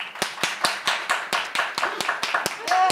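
An audience at a freedom-of-expression talk claps in a steady, fairly even rhythm, a string of sharp nearby hand claps for about three seconds.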